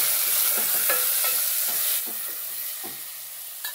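Tomatoes added to a frying pan for korrala upma and stirred: a bright steady sizzle with repeated scraping strokes of a spatula, close and without talk.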